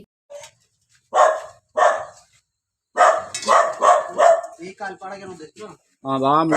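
A police squad dog at a house burglary scene barks in loud, close bursts, single woofs then a quick run of barks, followed by a whining yelp and longer howl-like cries.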